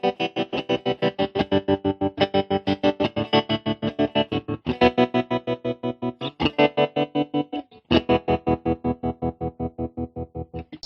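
A distorted electric guitar chord through a MadeByMike Saltshaker tremolo pedal set to square wave chops on and off in a rapid, steady on-off pulse, a hard stuttering tremolo with abrupt cuts.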